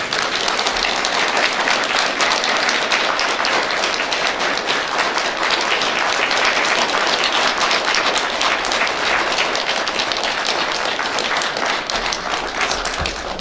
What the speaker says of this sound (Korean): 큰 환영과 축복의 박수로 맞이하도록 하겠습니다